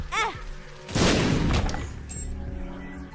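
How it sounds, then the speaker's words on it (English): A bomb detonating in The Binding of Isaac: Rebirth sounds as a single loud, close blast with a rumbling tail, preceded by a short chirpy game sound and followed by a brief bright chime. "Bomb."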